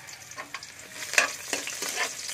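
Garlic fries in oil as the base for a squash and okra coconut-milk stew, a steady crackling sizzle broken by repeated stirring scrapes, close and fairly loud, with no talk.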